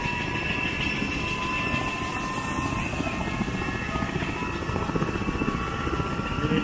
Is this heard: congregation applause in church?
no